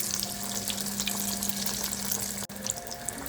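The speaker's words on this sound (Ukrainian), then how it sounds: "Беремо котлету і закладаємо її у фритюр." Chicken Kyiv cutlet deep-frying in oil heated to 160 degrees, giving a steady, even bubbling sizzle up close with no talk, broken by a brief dip near the end.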